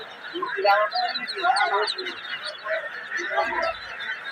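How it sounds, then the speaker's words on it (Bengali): Many ducks quacking together nearby at a duck market, a busy overlapping chorus mixed with people talking in the background. "হাঁসগুলি একটু দেখান ওনার কতগুলো হাঁস আছে"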